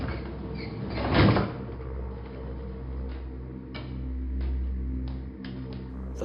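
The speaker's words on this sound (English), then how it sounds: "The elevator doors opened and we stepped out." Elevator doors sliding open in a video game, a soft mechanical rumble with a brief louder swell near the start, followed by a low steady hum and scattered faint clicks.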